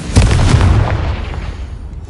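A booming explosion from the Confringo blasting spell in Hogwarts Legacy, one heavy, loud low blast with a rumbling tail that fades over a couple of seconds.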